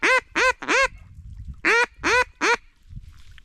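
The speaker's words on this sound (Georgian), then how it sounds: "ერთი 50 ფრთიანი გუნდი არის ახლა იხვის." Ducks quack on a duck hunt at season's close: six loud, nasal, harmonic calls come close by in two bursts of three, with quiet gaps between them.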